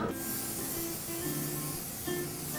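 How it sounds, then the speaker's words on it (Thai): A can of Rexona Crystal deodorant spray is sprayed from about six inches away, giving one continuous close, loud hiss lasting a few seconds. "ดีโอสเปรย์เนี่ยนะคะจะฉีดระยะประมาณ6นิ้วห่างจากตัว"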